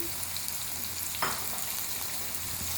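Okra fries in a pan with a steady soft sizzle, and a short stirring scrape comes partway through, with no voices heard.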